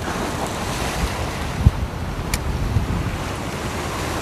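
Steady wind gusts across the seaside fishing rocks, with a broad rushing roar and faint surf beneath it, loud and unbroken throughout, plus a couple of small knocks.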